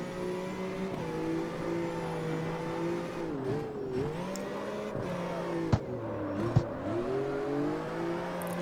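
A BMW's engine hums steadily while driving in the CarX Street racing game, a sustained tone that rises and dips with throttle changes, with a couple of short sharp clicks and no talking.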